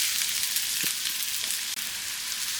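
Chopped onions sauteing in olive oil with rosemary in a pan, a steady bright sizzle running throughout, close and continuous, with a couple of soft stirring knocks and no talk.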